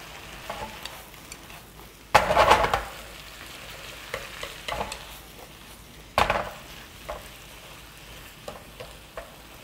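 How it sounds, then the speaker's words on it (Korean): Chives and perilla leaves tossed in a hot pan with goat bulgogi, with a soft sizzle throughout and two sharp scraping bursts as a utensil stirs them. "부추하고 깻잎만 들어가서 한번 휙휙 볶아주면 끝이랍니다"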